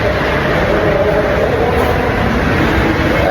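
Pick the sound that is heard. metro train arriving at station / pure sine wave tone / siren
metro train arriving at station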